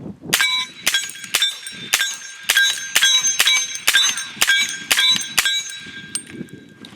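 Rifle shots in 300 Blackout hitting steel plate targets, about ten rapid ringing clangs in quick succession, each impact sharp and metallic with a lingering high ring, fairly loud with no talk.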